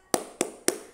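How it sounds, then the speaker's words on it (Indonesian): Three crisp hand claps of a classroom spirit clap, evenly spaced and close, each a sharp slap with a quick decay, with no talk. "Tepuk semangat."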